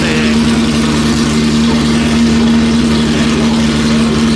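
A 500-horsepower V8 sports car engine from a 1982 race car hums steadily at a low, even idle, loud and close, with no talking.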